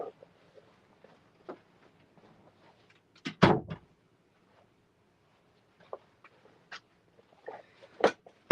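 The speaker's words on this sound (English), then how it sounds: "I'm going to close the door" Someone closes a door indoors, with a sharp thump partway through and another near the end, between soft clicks and rustles.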